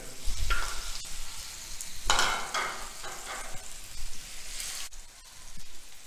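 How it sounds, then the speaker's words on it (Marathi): Boiled cubed potatoes hit a hot pan and fry with a crackling sizzle, broken by repeated bursts of stirring and tossing, close and steady throughout with no voices. "आता ह्यामध्ये आपण जो स्क्वेअर करून ठेवलेला उकडून घेतलेला बटाटा आहे तो घालायचा"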